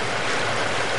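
Waterfall in the video game Half-Life: Blue Shift, a steady, dense rushing wash of water filling the whole moment, loud and continuous with no voices.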